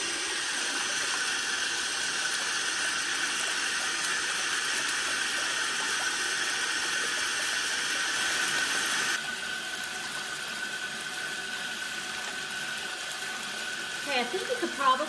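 Bath water runs steadily from a tap into a tub filling with bath bomb and bubble bar foam, a continuous rushing hiss that drops in level partway through, with faint talk underneath.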